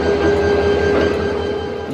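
Locomotive 2938 shunting to couple onto a passenger train on a cloudy day, giving a steady loud rumbling drone with a sustained tonal whine from the engine, continuous and close with no talk.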